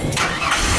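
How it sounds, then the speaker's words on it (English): A 1995 Ford Ranger engine starts with a short crank and catches immediately, settling into a loud, close running note over less than a second. "it just starts right up"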